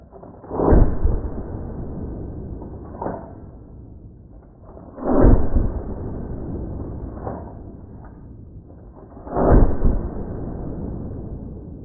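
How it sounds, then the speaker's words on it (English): Three booming blasts from a Model 25 pump shotgun being slam fired, spaced about four seconds apart, each followed by a shorter mechanical clack of the pump action in between. "You're supposed to be able to slam fire this Model 25."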